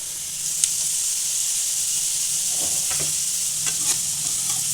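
Bitter gourd fries in a pan for sambar with a steady, loud, close hiss of sizzling oil and a few faint stirring clicks, with no talking.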